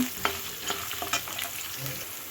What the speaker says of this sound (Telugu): ఇప్పుడు ఇవన్నీ మనకి వేగిపోయాయి నేను ఇప్పుడు అల్లం వేసుకుంటున్నాను